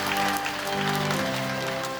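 A church congregation at a prayer meeting claps steadily in praise, a dense continuous wash of applause over a low sustained musical tone.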